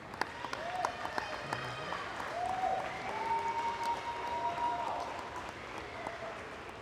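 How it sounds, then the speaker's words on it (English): Audience applause for a high school girls' basketball team at a meet-the-team event, steady clapping from a crowd in a gym, moderately loud with a few whoops and cheers riding over it. "Another round of applause for the 24-25 Lady Jackets."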